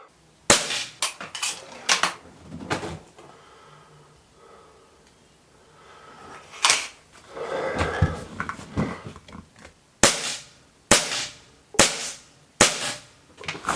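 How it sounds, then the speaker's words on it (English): An air rifle fires five shots at a small target dot 25 meters away, each a sharp, close crack separated by pauses, with quieter handling and reloading noises between some of the shots. "I'm gonna take 5 shots at that little dot there"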